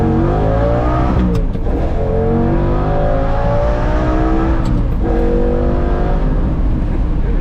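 A 1983 Mercedes 300 TD turbo diesel wagon engine runs loud and close, its pitch rising and falling twice as it is revved.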